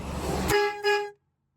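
One loud, brassy horn blast, close and brief, lasting about a second before cutting to silence.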